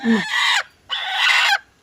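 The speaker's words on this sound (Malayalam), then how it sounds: "കണ്ട കോഴി നമ്മുടെ ചീറിയിരിക്കുകയാണ്" A broody hen gives two harsh, raspy hisses close by, each lasting about half a second with a short pause between.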